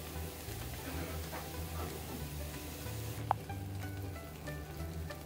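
Gobi manchurian frying in oil with a low, steady sizzle, fairly quiet and close, with a brief clink partway through and no voices.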